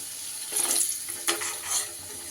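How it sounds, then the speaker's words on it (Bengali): Potato pieces fry in hot oil in a pan, giving a steady, close sizzle with a few brief swells in hissing intensity. "সুন্দর করে আলুটা ভেজে নিতে হবে আলুগুলো আমার বেশ লাল লাল করে ভাজা হয়ে গেছে"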